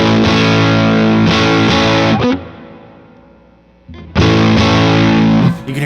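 Distorted Telecaster-style electric guitar through an amp with the bass tone switch down, loud strummed chords that ring, cut off and decay into a quiet gap before the strumming returns.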